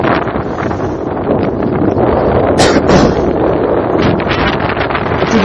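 Steady, loud wind roaring across the microphone on a junk-rigged sailboat in 20 to 25 knot gusts, a broad rushing buffet with gusty swells and no voices.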